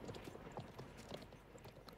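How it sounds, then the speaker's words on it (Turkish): In the video game Conqueror's Blade, a galloping horse gives a fast, steady run of hoofbeats, faint and somewhat muffled, with no speech over it. "Şöyle koşturabiliyorsun atı."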